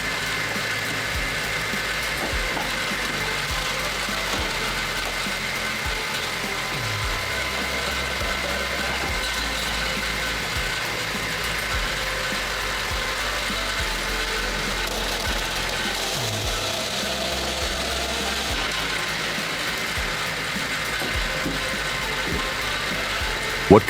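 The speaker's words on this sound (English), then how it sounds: "Just feed the material and let the system grind." A diesel wood shredder grinds wood nonstop, a loud mechanical churn with rattling, ratcheting knocks and a heavy engine drone throughout, close and dense with no pauses.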